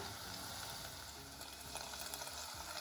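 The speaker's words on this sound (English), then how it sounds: "So we're just going to fry these up really quick, and it's really fast since the oil's been going already" Flour tortilla triangles fry in already-hot oil, giving a steady, close sizzle with dense crackling bubbles throughout, no voices.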